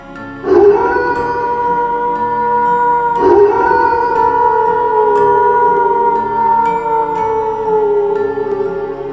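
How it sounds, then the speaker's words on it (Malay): Dogs howl near a house in a horror narration setting, two long drawn-out wailing calls that start about three seconds apart and overlap, each sustained and slowly fading. "tiba-tiba juga terdengar bunyi salakan anjing yang tak jauh dari rumahku."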